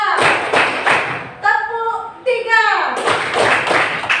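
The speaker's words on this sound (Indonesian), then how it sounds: "Tepuk 1, tepuk 2, tepuk 3," A group of children clap hands in counted beats during an unplugged computational thinking activity, loud thumping claps in a short burst, a pause with a voice speaking, then another run of claps.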